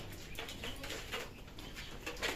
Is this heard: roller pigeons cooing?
yes